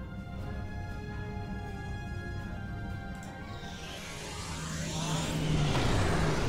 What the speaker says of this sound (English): I engage the slipstream. And then I'll get the slipstream going.